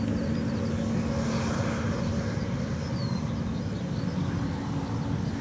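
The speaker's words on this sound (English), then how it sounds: "United rolling 767. It's going to Chicago." A United Boeing 767 rolls for takeoff at Dublin Airport, bound for Chicago, its engines a steady, heavy roar that holds close and loud throughout with no voices over it.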